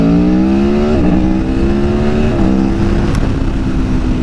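A 2019 Aprilia Tuono Factory motorcycle accelerates hard out of a curve, its engine note climbing steadily through two quick gear changes, loud and close with a strong harmonic roar and no talking.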